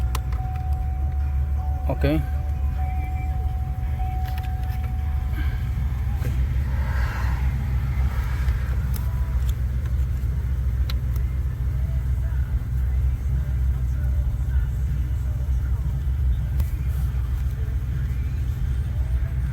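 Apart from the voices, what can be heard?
2003 Pontiac Aztek engine running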